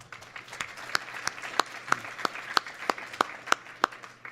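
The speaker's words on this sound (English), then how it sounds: "Can we give her a round of applause?" Clapping at a summit event, heard as sparse, evenly spaced sharp claps at a quick steady rhythm. It is fairly quiet and sounds more like a few hands than a full crowd.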